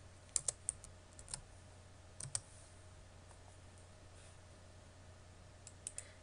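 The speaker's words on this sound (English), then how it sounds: "So I type in the circle command." Keyboard typing while entering a circle command in a Python coding environment: a few light clicks early, a short pair near the middle and a couple more at the end, faint against a steady background hum.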